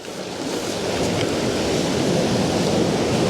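Ocean waves wash in steadily onto the shore, a loud, continuous broadband surf that swells slightly and then holds, with no voices.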